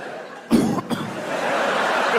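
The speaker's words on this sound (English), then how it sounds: "Just coughing. Coughing during sex is funny." A comedian coughs on a live comedy stage, a short burst followed by another quick cough, then continuing crowd and room noise.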